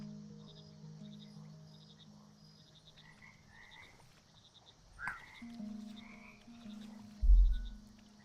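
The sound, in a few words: frog croaking in frog management video game Mudborne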